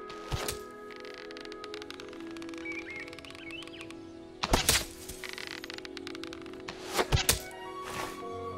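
Arrows thud into a target in Fable Anniversary: a single sharp impact early, then a louder double knock, then a quick cluster of hits near the end over a quiet ambient bed with faint bird chirps.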